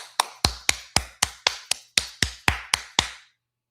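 A dozen sharp slaps in a steady, fast rhythm, each one crisp and close, imitating booty clapping, with no talk over them.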